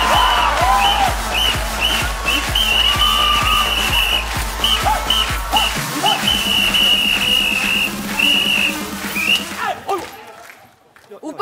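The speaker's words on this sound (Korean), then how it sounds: "그거 내 호루라기 아니야?" A shrill whistle blown in repeated rhythmic bursts over loud thumping club dance music and excited voices, then cutting off near the end.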